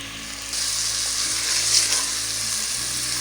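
Carrot sweet cooking in a spoonful of ghee after milk has been added and reduced, giving a steady, close sizzle that swells after a brief quieter start and holds evenly throughout.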